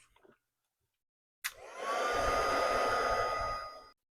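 A heat tool clicks on after a short silence and blows a steady, airy whirring hiss at close range for about two and a half seconds while setting white embossing powder, then cuts off.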